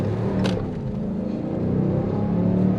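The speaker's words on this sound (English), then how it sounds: "our tires did spin the second we stepped on it just now" A 2023 Ram 1500 Warlock pickup accelerating hard with its rear tires spinning, heard from inside as a steady loud engine roar and low rumble that swells slightly toward the end.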